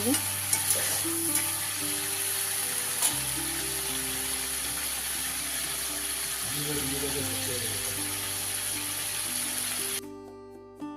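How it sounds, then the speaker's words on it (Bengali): Steady oil sizzle fills the pan throughout with a low hum beneath, ending abruptly near the end; no voices heard. "চিংড়ি মাছ ভাজা হচ্ছে খুব লাল লাল করে ভাজতে হবে না হালকা ভাজলেই হবে"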